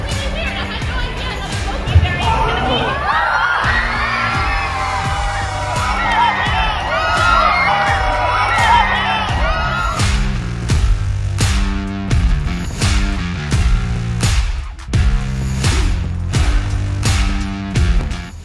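A large crowd of fans at a Comic-Con panel room screams and cheers in surprise, loud high-pitched shrieks swelling together, then fading into excited chatter and clapping.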